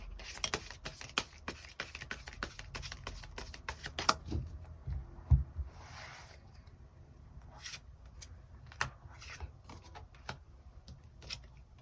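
Tarot cards are shuffled in a quick, dense rattle of riffling snaps, then drawn with scattered, softer flicks and slides, quiet and close.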